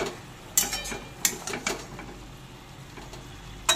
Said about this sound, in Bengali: কিছুক্ষণ পর ঢাকা খুলে নিয়েছি, একটু নেড়ে নেব।